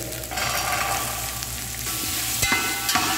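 Potatoes frying in a pan as peas go in for tahari, a steady close sizzle with soft stirring scrapes and small clinks, no voices.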